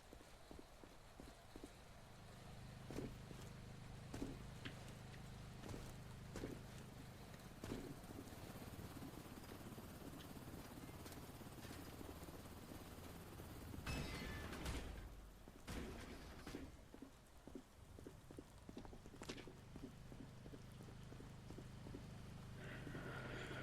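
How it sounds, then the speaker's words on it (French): Rain patters on a sheet metal roof in the zombie game Quarantine Zone, a faint steady drumming hiss with scattered louder taps and a low hum underneath, continuous throughout with no talk. "Alors ça, c'est le bruit de la pluie sur la tôle."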